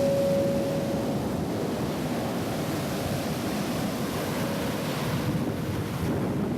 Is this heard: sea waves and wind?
yes